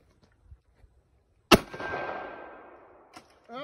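A soda can bursts from a soda cannon in one sharp, loud bang after a few faint knocks, trailing off in a long hissing, rumbling decay lasting over a second before a brief rustle at the end.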